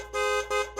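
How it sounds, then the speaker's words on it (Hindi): A cartoon car horn honks in three quick, loud, brassy blasts in under a second, each cut off by a short gap. "लेकिन चूहा किसी तरह आजाद होकर हॉर्न बजाने लगता है।"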